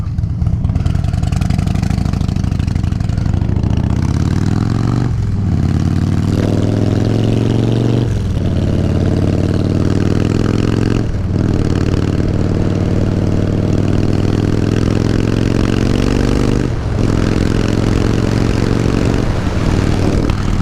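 A Harley-Davidson motorcycle engine fitted with a newly installed aftermarket exhaust drones loud and close, rising steadily in pitch through several gear changes, with no talking.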